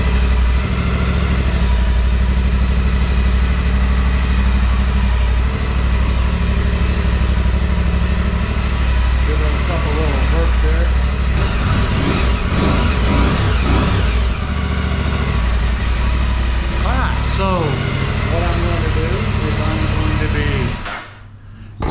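A 2023 Aprilia Tuareg 660 motorcycle on its stock exhaust idles steadily and loudly, with a few throttle blips raising the pitch partway through before it settles again.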